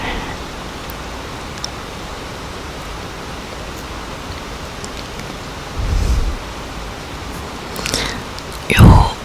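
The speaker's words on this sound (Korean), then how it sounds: "이제 끝나야 되는데 왜 빗소리가 굵어진 거야?" Heavy rain falls outside at night with sleet mixed in, a constant dense hiss throughout, broken by a few brief close rustles and knocks near the end.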